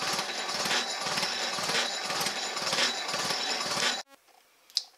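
A Jacobs gear hobber cuts a worm wheel with a loud, rhythmic mechanical chatter that pulses about once a second, then abruptly stops, leaving a quiet room with a faint click.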